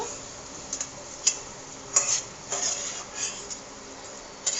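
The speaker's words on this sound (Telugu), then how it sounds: "నేతిలో క్రిస్మస్ కూడా ఫ్రై చేస్తాను అన్నమాట ఫ్రెండ్స్." Raisins fry in ghee for bread halwa, giving a soft sizzle broken by a few sharp clinks and scrapes of a spoon stirring against the pan.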